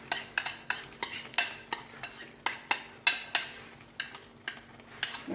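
Metal utensils clatter and scrape against a tajine pan while minced meat goes in, a dozen sharp close taps in an uneven rhythm with no voices.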